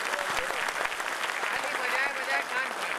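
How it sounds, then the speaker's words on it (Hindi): A crowd at a mushaira poetry gathering in Doha, Qatar gives loud, sustained applause, a thick continuous roar of clapping with voices audible beneath it. "एक बार जोरदार तालियां"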